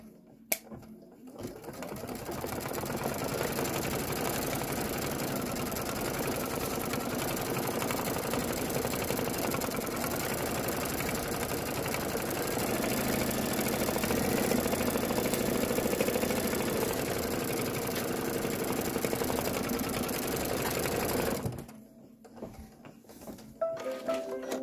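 An embroidery machine stitches the quilting section of a Kimberbell Main Street Celebration project, a steady close mechanical whirring and rapid needle patter running continuously for about twenty seconds before stopping, with no talk.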